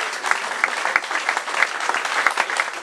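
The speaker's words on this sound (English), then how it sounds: "a round of applause for Sean Holley, great MCN." Audience applause for the MC at a Rugby World Cup 2023 launch evening, a room of people clapping loudly and close, with distinct overlapping claps in a brisk, steady patter.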